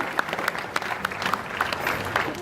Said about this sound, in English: if you want to give the 4 tigers and also the handlers out here a big round of applause